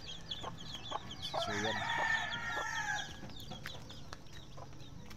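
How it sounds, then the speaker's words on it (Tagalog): Chickens and chicks on a breeding farm cluck and cheep continuously, with one loud crowing burst in the middle, close and busy, and someone briefly talking. "Ito mga sisiw"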